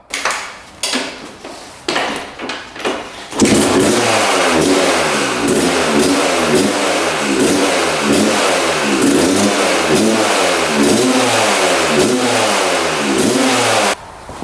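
A 2-stroke dirt bike, its carburetor air screw just adjusted, gives a few sharp kick-start clatters before the engine catches and settles into a loud, close, steady rhythmic revving that continues to the end.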